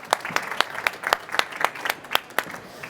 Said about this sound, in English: we can give ourselves and Irina some applause